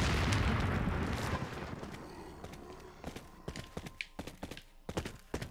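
Rocket explosions in Resident Evil 4: a heavy blast rumbles at the start and fades over a couple of seconds, then a series of sharp, separate bangs and impacts follows at irregular intervals.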